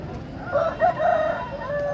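Large heavy Aseel rooster crowing at a bustling market, a loud, close call with a wavering, stretched middle and a long sustained final note over background crowd noise.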